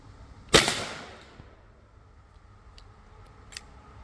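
Single sharp report from a Seneca Double Shot big bore PCP air rifle, a close crisp crack with a short decaying tail, followed by faint clicks of handling and no speech.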